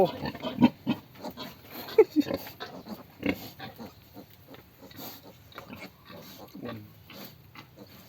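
A sow with her twelve piglets on a farm, grunting and squealing in close, busy bursts while a person talks nearby.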